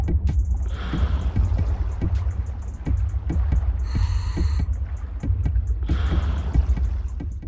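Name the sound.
tapping noise from underwater bunker, video game GTA 5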